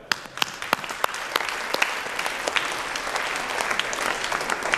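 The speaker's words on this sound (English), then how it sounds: "Applause for Sigfox Sunrise." Applause at a tech expo stage event in Prague, with scattered sharp individual claps over a steady moderate wash of hands from the audience.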